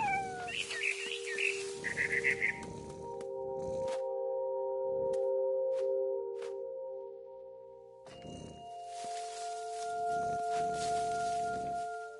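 A cat in the video game What Remains of Edith Finch lets out several drawn-out meows and caterwauls over a sustained tonal drone, with brief chirps and rustling in between.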